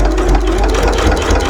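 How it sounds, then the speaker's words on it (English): A sewing machine stitches around a fabric bowl cozy with a close, loud motor drone and rapid, even needle pulses in one brief continuous run, heard alone. "you sew all the way around until you get close to where you started"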